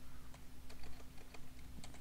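Quiet, rapid keystrokes on a computer keyboard as a terminal command is typed into a code editor, an irregular run of soft clicks with no talking.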